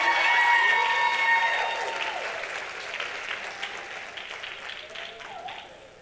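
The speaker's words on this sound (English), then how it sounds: "please give a warm round of applause" An audience claps and cheers for a business finance panel coming up on stage, starting loud with some whoops, then easing into lighter, scattered applause.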